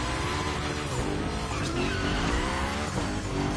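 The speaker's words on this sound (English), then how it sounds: "we're gonna rough up the Hoonicorn a bit. We're focusing on Gymkhana essentials, big slides, and precision." A Hoonicorn in The Crew Motorfest racing game slides through gymkhana moves, its tires squealing in long wavering screeches over a constant, loud engine roar with no talk.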